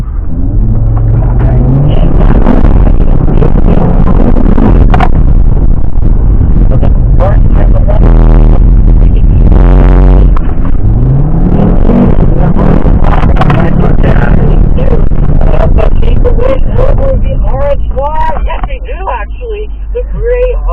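Audi RS3 with all-wheel drive accelerating hard around the COTA race track, a steady low engine drone and rumble running continuously beneath nearly nonstop talking inside the car.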